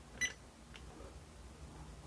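A card payment terminal sounds one short, faint beep near the start of a phone-line connection test, followed by quiet low background hum.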